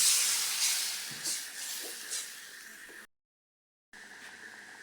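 Broth hits coconut spice paste frying in a pan, setting off a loud steady hiss and sizzle close by that carries on, drops out abruptly for a moment, then returns.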